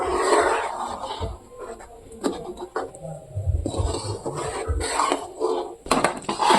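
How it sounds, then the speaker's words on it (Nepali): Homemade sutkeri masala spice mix, with ajwain, fenugreek and fennel powder, being stirred in a pan, giving soft scraping and rubbing of a spoon against the metal with occasional clinks, intermittent and close, under quiet voices. "अनि राम्रोसँग चलाउने।"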